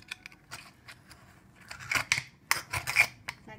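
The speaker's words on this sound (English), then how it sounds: "then you use a spoon to take it out. You scrape it out" A spoon scrapes a Norwegian scallop out of its opened shell, making quiet, close, gritty scraping strokes in short bursts that grow denser and louder toward the end, with no talk.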